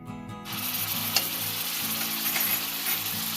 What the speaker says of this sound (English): cook ginger garlic paste for a minute